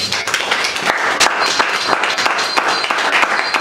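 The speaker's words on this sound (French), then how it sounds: "un bon mot d'applaudissement." A group claps to welcome new members at an association meeting, a brief burst of uneven hand claps with sharp individual slaps, fairly close and loud.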